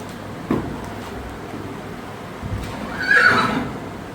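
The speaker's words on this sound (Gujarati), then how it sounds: "આ તમારી જૂની ઘોડી છે?" A mare with foals gives a loud, quavering whinny late on, after a brief snort at the start, with faint stable rustling in between.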